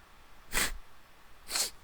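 Two sharp sneezes about a second apart, close and fairly loud, each a quick bright burst that fades into quiet breathing, with no talk over them.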